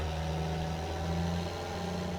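A tractor in Farming Simulator 22 reverses with a steady, droning engine hum and a low idle rumble, close and continuous throughout with no voices.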